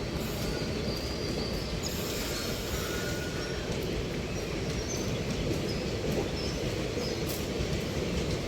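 A passenger train rolls along steadily at a moderate distance, with a continuous low rumble of wheels on rails and faint higher squeals and clicks above it.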